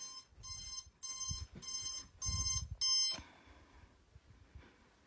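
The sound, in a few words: alarm clock ringing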